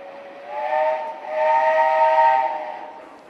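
A steam engine sounds a long, loud whistle with a hiss of escaping steam as a funeral procession sets off in Bolton. The whistle comes in two swelling blasts, the second longer, carrying over a quiet street.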